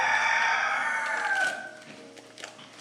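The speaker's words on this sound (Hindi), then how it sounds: "मुर्गा हमारा बोल रहा है" A rooster crows once, loud and close, the long call trailing off into quieter background clatter from a late-night home kitchen where cheese is being melted onto food.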